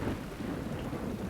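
Heavy thunder from lightning in a film scene rolls as a continuous loud low rumble, mixed with steady rain and no voices.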